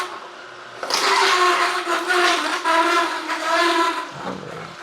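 A Kuvings C7000 juicer with a 3-inch chute runs close by with a steady motor whir and grinding hum. It starts abruptly, holds for several seconds, then cuts off.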